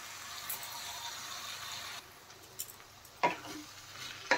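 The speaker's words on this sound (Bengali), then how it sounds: "এখন ভালোভাবে কষিয়ে নেব।" Drumsticks and potatoes being sautéed with spices in a pan, with a steady sizzle and frying hiss broken by a few sharp scrapes and clinks of stirring, close and with no voices.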